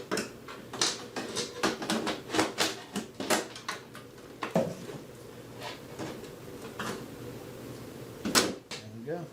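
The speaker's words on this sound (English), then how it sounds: "just lift up on the door." A GE oven door being lifted and set onto new hinges after bent hinges kept it from closing, with a series of sharp metallic clicks, clunks and scrapes in an irregular rhythm, close by.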